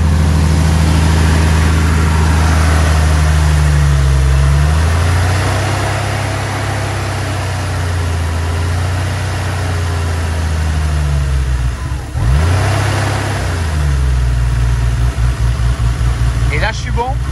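Porsche 993 flat-six engine idling high and unevenly, its low drone wavering and surging up and down, loud and close, with someone speaking over it.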